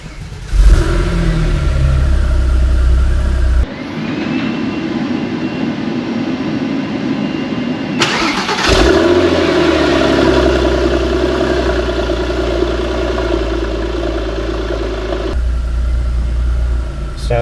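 Porsche 993 Turbo S starting on its old-style key and revving, a loud droning engine roar with a sharp start surge, sustained revs and a settling idle, with faint back popping.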